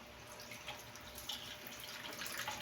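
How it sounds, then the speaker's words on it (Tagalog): A steady, soft stream of water running and splashing into a pan, continuous and close with no talking. "So lagyan natin ng tubig dito sa kawali."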